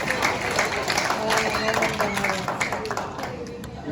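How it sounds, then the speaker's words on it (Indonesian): A church audience breaks into sustained applause, a dense wash of clapping that carries on throughout with voices mixed in. "Ini tepuk tangan untuk Tuhan."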